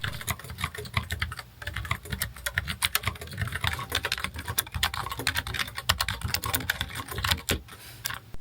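Typing on a Logitech MX Mechanical keyboard with blue switches gives a dense, continuous run of crisp clicky keystrokes, close and steady throughout with no voices.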